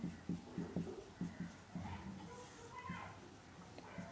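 Scratchy strokes of writing on a board during a surface chemistry lesson, heard in short bursts underneath a teacher's ongoing speech.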